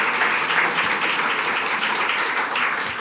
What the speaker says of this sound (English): let's give Mr. Horner, Professor Schultz, Senator Marty, and Senator Kiffmeyer a warm round of applause